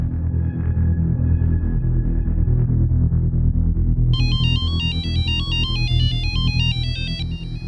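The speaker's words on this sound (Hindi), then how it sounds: "इतनी रात को फोन किया?" A melodic electronic phone ringtone starts partway through, repeating a bright stepping tune over steady low background noise.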